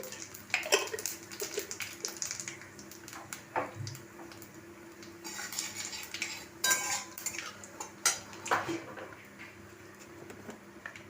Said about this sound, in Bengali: হাফ চামচ কালো জিরে ফোড়ন দিচ্ছি